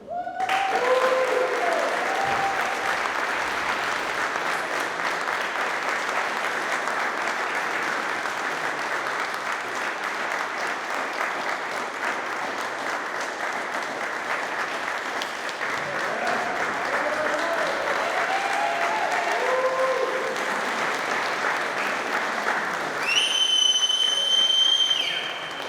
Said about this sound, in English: I think we need to all stand up and applause.